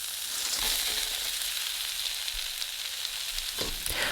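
Tofu dropped into a hot pan with the heat switched off for salt and pepper tofu, giving a steady close hiss of frying with brief stirring scrapes and a louder sizzling burst near the end.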